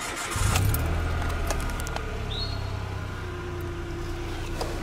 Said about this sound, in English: let me go ahead and start the car.